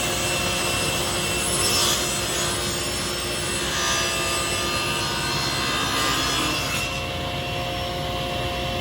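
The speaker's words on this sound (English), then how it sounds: "start the saw, and push the piece through" Table saw cutting through a wooden workpiece with dust removal running, a loud, steady whine and grinding rasp that holds nearly unchanged for several seconds. It eases slightly near the end, with no voices over it.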